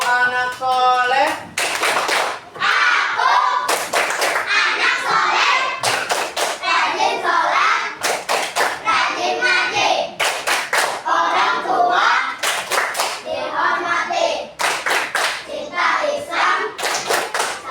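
Children clap the tepuk anak soleh chant in an Islamic religious class, with rhythmic bursts of hand claps alternating with group chanting voices, loud and close.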